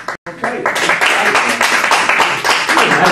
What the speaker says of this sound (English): Nice to get some applause when you speak.